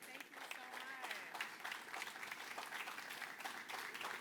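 A crowd at a Detroit recap event for the 2024 NFL Draft applauds, a continuous wash of clapping heard at a distance and fairly soft, with a voice briefly audible near the start.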